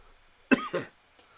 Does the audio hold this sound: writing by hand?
no